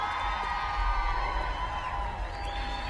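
A home crowd in Atlanta cheers at the USA's women's rugby sevens plate final, a steady, loud wash of massed voices and shouts that holds through the whole stretch.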